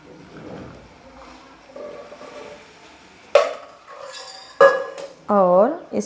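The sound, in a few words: masala chai being whisked in a pot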